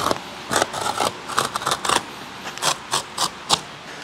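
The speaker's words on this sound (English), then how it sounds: "just score down through this stuff into that, basically cutting that webbing" Sharp, repeated scraping strokes of a utility knife scoring cement board webbing, about a dozen crisp close-up rasps in an uneven rhythm, loud and with no voices.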